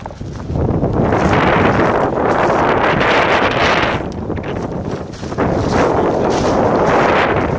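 Wind buffeting a camera microphone outdoors in a wooded food plot while trails are being cut, loud rumbling gusts that surge and ease repeatedly without voices.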